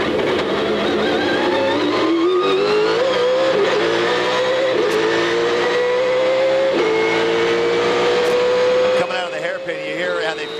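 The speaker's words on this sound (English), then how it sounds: "There's some bumps there when the engine comes up on the cam. It really likes to spin those tires." A 2003 SCCA Trans Am race car at Long Beach revs hard, the engine pitch climbing and surging with bumps as it comes up on the cam and the tires spin. The loud, close roar runs under a speaking voice.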